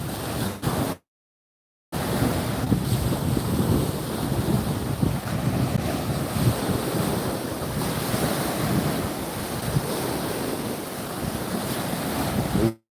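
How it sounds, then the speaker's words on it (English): Ocean waves wash onto Chalao Beach in Chanthaburi, eastern Thailand, on a cloudy morning: a continuous loud surf roar mixed with strong wind buffeting the microphone, briefly cut out near the start, with no talk. "We are live from Chalao Beach in Chontaburi, east region of Thailand"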